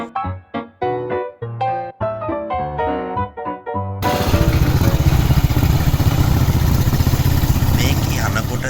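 Music plays at first, then a classic BSA B31 motorcycle engine starts up and runs with a steady, loud, dense mechanical thrum that continues to the end.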